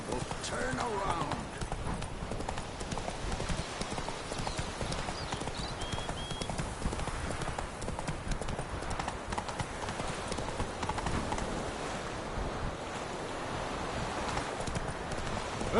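Steady clip-clop of Roach the horse galloping through The Witcher game world, a continuous rapid hoofbeat rhythm close by with occasional voices talking over it.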